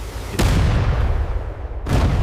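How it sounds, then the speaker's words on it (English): TNT cannon blasts in Minecraft boom against an ice wall, two heavy explosions about a second and a half apart over a loud, rumbling, crackling wash of debris. "The cannon's impact tears through the ice wall. Blocks explode outward"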